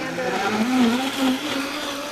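A kitchen blender purées cut tomatoes for pasta sauce, its motor running as a steady, loud whir with a wavering pitch for the full two seconds, alone and without talk.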